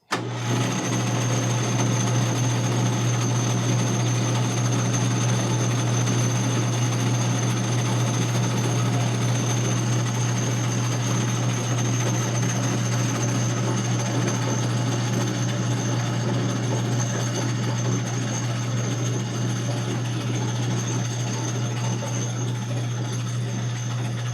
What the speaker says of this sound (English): Then Bill's he's got the lathe here. We're just going to put it in here and burnish this edge.